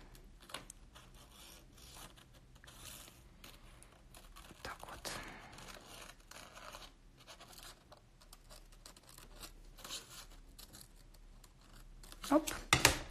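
Scissors snip around the edge of a paper drawing of a jumper, trimming close along the sleeves, as a series of quiet, irregular cuts and paper rustles alongside soft speech.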